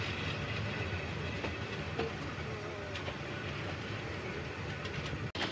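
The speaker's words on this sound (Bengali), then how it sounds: "এইমাত্র আমাদের ট্রেন পৌঁছালো জামালপুর জংশন।" The Tista Express rolls into Jamalpur railway junction with a steady low rumble and faint clatter throughout, a continuous moderately distant train noise with no talk.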